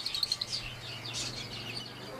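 Lovebirds kept in a cage with eggs give a quick cluster of high, sharp chirps, close and moderately loud, followed by softer scattered tweets over a low background hum.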